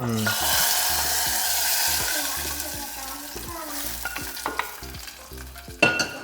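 Hot mustard and chilli tempering for pumpkin erissery sizzles up close as it goes into the pot, with scraping and clattering of a utensil, faint voices in the background, and a loud splashing burst near the end.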